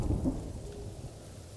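Thunder rolling through a rainstorm in Ghost of Tsushima, a fairly faint low rumble that swells briefly at the start then settles into steady rain noise, with no voices.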